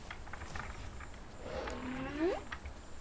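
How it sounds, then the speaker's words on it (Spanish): A maiasaura dinosaur in The Isle video game lets out a rising, wavering roar with a harmonic, horn-like quality, moderately loud over quiet game ambience and soft background thuds. "Que deje ya de rugir"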